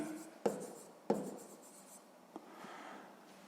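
Pen or pencil writing out a math solution on paper, soft scratchy strokes with a few sharper taps as the tip meets the page, quiet and close.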